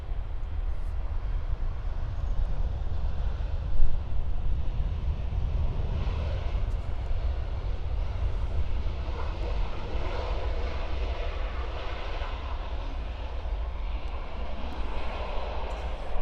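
Learjet taxiing toward a hangar at the far end of runway 04 at Stansted Airport, a steady distant jet engine whine with low rumble holding evenly throughout, no talk.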